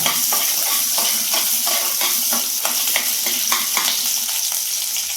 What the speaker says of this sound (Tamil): கடலைப்பருப்பும் அந்த எண்ணெயிலே வெந்துடும். வெங்காயமும் நல்ல ஓரளவுக்கு வரணும்.